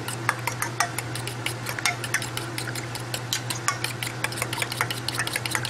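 Teriyaki ingredients with pepper being mixed in a bowl or pan, giving a steady run of light clinking and scraping taps close by, with a faint low hum underneath and no voices.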